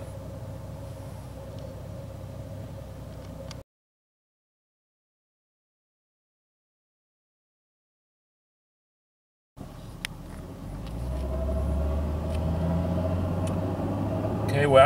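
A 2001 Ford Taurus with a 3.0 OHV V6 driving, a steady low cabin rumble of engine and road noise that cuts out to silence for several seconds, then returns louder and deeper as the car picks up speed.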